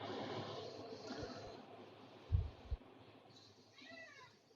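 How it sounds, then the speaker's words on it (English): A faint, short cat meow near the end, after quiet background noise and a couple of soft thumps. "Meow."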